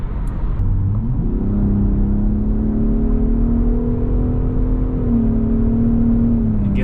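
A Gen 3 Ford Raptor pickup truck accelerates hard, its engine note climbing and holding as a steady, loud rumbling drone heard from inside the cab, with no talk.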